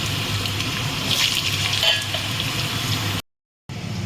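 Potatoes hit hot oil in a pan with bay leaf and whole spices, giving a continuous loud sizzle and crackle that runs steadily, then cuts out briefly before resuming.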